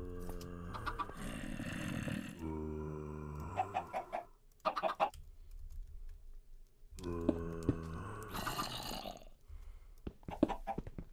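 Chickens clucking in the Minecraft video game, several short bursts of clucks with pauses between them, close and clear, with keyboard typing clicking in the gaps.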